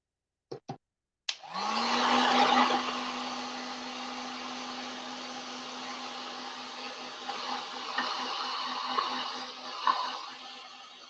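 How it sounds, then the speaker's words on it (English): A handheld heat tool blows steadily on painted laser-cut watermelon slices, a loud continuous whooshing roar that starts after a couple of brief clicks and holds for about ten seconds with slight fluctuations. "let's get our heat tool so these can dry"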